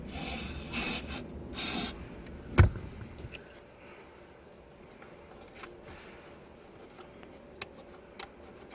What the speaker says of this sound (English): I take the electronic cleaner and I clean it.